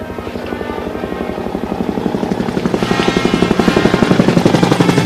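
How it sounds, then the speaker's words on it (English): A Philippine Air Force helicopter flies over a veterans' ceremony at Mt. Samat, Bataan, its steady rhythmic rotor thump growing louder as it approaches, with no voices. "Flower drop from the helicopter wing of the Philippine Air Force right at the front"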